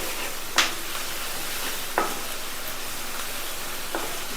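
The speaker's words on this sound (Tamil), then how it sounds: "இந்த கேரட்டு கேப்சிகம் சேர்த்து நல்லா ஒரு நிமிஷம் இது நல்லா ஃபுல்லாக இந்த மாதிரி வதக்கிக்குவோம்." Cauliflower rice with carrot and capsicum stir-fried over a high flame, a constant loud sizzle broken by three sharp spatula strikes against the pan, spaced a second or two apart.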